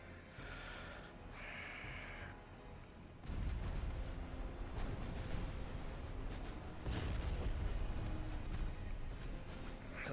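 Warship secondary guns firing in the naval strategy game Ultimate Admiral Dreadnoughts, a dense run of heavy booming reports that starts abruptly and keeps rumbling loudly through the rest of the clip.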